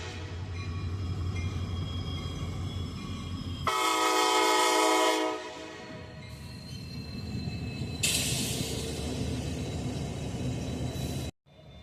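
Train engines roll past a town crossing in Seymour, a steady loud rumble throughout with two long, blaring horn blasts, the second overlapping the continuing rail noise before an abrupt cutoff.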